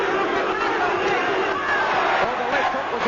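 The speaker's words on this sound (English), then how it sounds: "The big crowd calling for a knockout" A large boxing crowd at a Kostya Tszyu versus Roger Mayweather fight roars and chants, calling for a knockout, in a dense continuous wall of cheering and shouting voices that holds steady and loud throughout.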